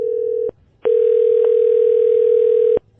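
A telephone ringback tone plays from a call recording. A loud, steady tone is followed by a short pause, then a longer tone of the same pitch.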